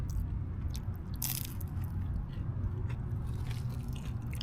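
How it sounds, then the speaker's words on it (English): A crunchy spring roll at a Thai meal is bitten and chewed close up, with a steady run of loud crisp crunches over roughly four seconds and no talking. "I'm sure you guys can hear that crunch."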